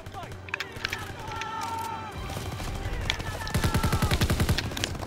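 Rapid gunfire in the World War II shooter game Call of Duty WWII, starting with scattered shots and building into a loud, fast automatic burst toward the end, with someone talking and game voices underneath.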